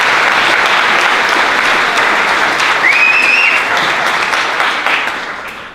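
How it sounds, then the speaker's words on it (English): Sustained applause from the audience at a film festival opening night, loud and steady for several seconds before tapering off at the end. "Round of applause, Rachel Friedman."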